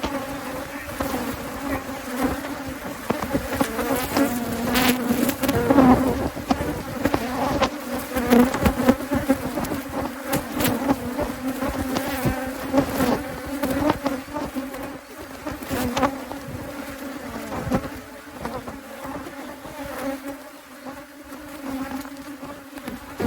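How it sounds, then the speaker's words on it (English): A dense, loud buzzing of many honey bees fills the air continuously around an opened hive in South Africa, with individual bees droning close by. "The bees are covering the camera."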